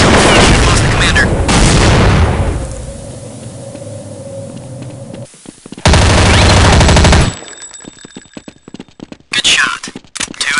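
Loud bursts of automatic rifle fire and single shots in Counter-Strike: Condition Zero, with a heavy volley opening, a quieter lull, another dense burst in the middle and scattered shots near the end, mixed with radio chatter.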